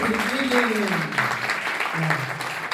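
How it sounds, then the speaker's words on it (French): An audience applauds a dancer at a festival in Abidjan, a dense wash of clapping running throughout beneath a voice speaking over it. "C'est le danseur, on va applaudir."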